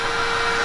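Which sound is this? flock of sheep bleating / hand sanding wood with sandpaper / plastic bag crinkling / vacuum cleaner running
vacuum cleaner running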